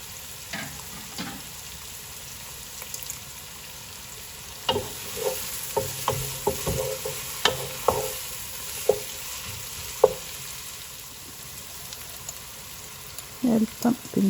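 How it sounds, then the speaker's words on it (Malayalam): Chopped green chillies and other ingredients sizzle in a pan while a spatula stirs with irregular scraping knocks, a few sharper clatters near the end, close and steady without talk. "ബാക്കിയെല്ലാം കൂടെ ചേർത്തിട്ട് വഴറ്റിയെടുക്കാം കേട്ടോ. അരിഞ്ഞ് വെച്ചിരിക്കുന്ന പച്ചമുളകും എല്ലാം ചേർത്ത്"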